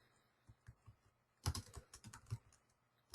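Someone types on a computer keyboard with soft, scattered keystrokes, then a quicker cluster of louder clicks, heard close with no talking.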